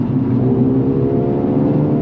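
A turbocharged Mercedes-Benz CLA 35 AMG engine roars loudly and steadily under hard acceleration from about 2,500 RPM, a dense close rumble with a rising whir and no talking.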